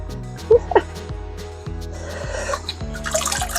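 Excess water drips and trickles out of waterlogged seed-starting mix in an onion seed tray. A few sharp drips come first, then a soft, continuous splashing trickle, close by over a low hum.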